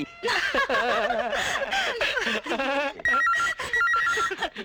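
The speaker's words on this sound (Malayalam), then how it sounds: "Phone phone." A telephone rings with a repeating warbling electronic tone, mixed with chuckling voices.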